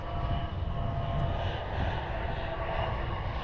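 A Southwest Airlines airliner roars on its takeoff run, a steady, loud broadband engine rumble holding at constant strength throughout without pause.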